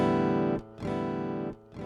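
A sustained guitar tone from a Donner Hush-i Pro travel guitar with an analog delay effect repeats in two long swells, each cutting off briefly before the echo returns, loud and clear without any talking.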